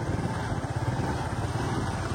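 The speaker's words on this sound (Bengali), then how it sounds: "বাইক চালাতে চালাতে এইভাবে ভিডিও করাটা রিস্ক" A motorbike ridden along an empty village road near Kolkata, its engine droning in a steady close rumble with wind rushing over it for the whole short stretch.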